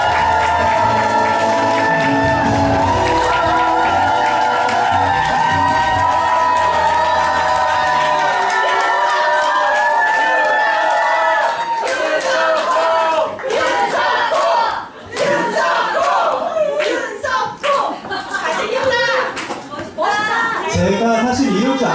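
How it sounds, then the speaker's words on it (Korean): A lecture-concert audience in a hall cheers and shouts loudly as a speaker is welcomed, with whoops and crowd noise over music at first, then a ragged roar of yelling and clapping. "박수로 맞아주시기 바랍니다"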